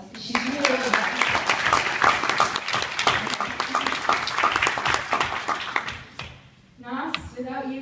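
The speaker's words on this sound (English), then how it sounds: "Can we please give Kate a round of applause?" An audience gives a round of applause during a student's thank-you speech, crisp claps rolling steadily for several seconds while a voice talks over them, fading briefly before picking up again near the end.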